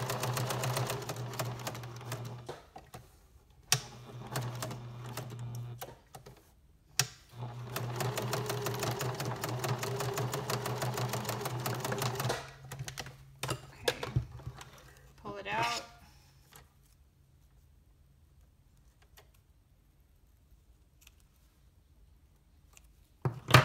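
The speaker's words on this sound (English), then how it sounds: "I'm just gonna sew around the little piece of fabric that has the words on it." A sewing machine stitching around a small fabric piece bearing words, running in steady whirring bursts with brief stops, then fading as a person talks nearby.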